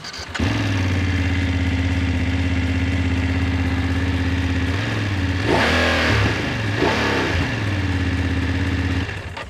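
A BMW F 850 GS Rallye motorcycle idles steadily with a deep parallel-twin throb, then gets blipped through a few sharp revs before settling back to idle, close and loud with no talking.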